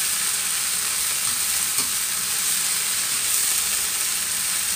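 Steady, loud sizzling of water spinach and vegetables stir-frying in a small hot wok, a continuous hiss with faint stirring scrapes and no talking.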